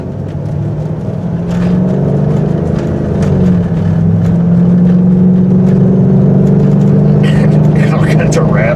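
A Jeep WJ with chopped lower control arms and new tires drives in full-time four-wheel drive, its engine droning steadily while loose parts rattle and clatter throughout the cabin.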